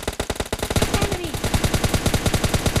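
Rapid automatic gunfire in a shooter video game, a dense burst of close, loud shots in quick rhythm that runs through the whole stretch without pause, with no talking over it.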